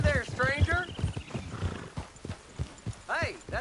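Horse in Red Dead Redemption 2, hooves clip-clopping with a couple of high whinnies, close by, while someone speaks over the sounds.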